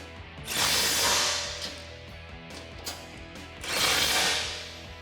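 A ratchet with a 16mm socket tightens bolts on a tubular off-road rear bumper for a 2015-2019 Ford F-150, two close bursts of rapid clicking and whirring with a quieter stretch between.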